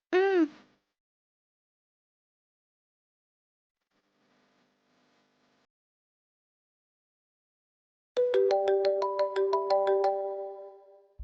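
A short chiming tone sounds, then near silence, then a bright melodic ringtone plays loudly for a few seconds.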